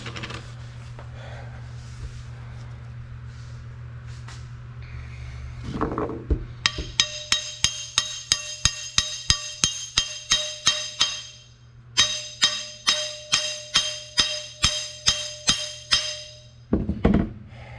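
A hammer taps a steel shaft out of a tractor's PTO output housing, with quick, regular ringing strikes, a brief pause midway before the sharp clinking blows resume, close and loud.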